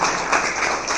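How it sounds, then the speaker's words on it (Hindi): An audience at a party office welcoming event breaks into loud, continuous clapping, a dense close-up burst of applause that lasts about a second. "इनके साथ जो आए हैं उनका करतल ध्वनि से इनका ताली बजाकर स्वागत करें"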